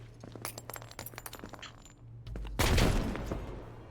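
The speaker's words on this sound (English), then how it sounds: "We yeet a grenade in there." A grenade tossed into a room in Door Kickers 2 bursts with a loud blast near the end, preceded by rapid clattering gunfire-like cracks and rattles.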